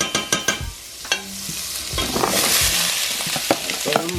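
Butter hitting a hot frying pan and sizzling, opening with a few sharp clinks of a utensil against the pan, then a loud steady hiss with occasional stirring knocks.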